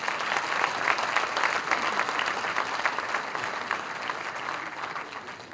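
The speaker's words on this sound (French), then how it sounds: "Applaudissez encore." Steady, dense audience applause fills the room at an event, moderately loud and even throughout, with no voices standing out.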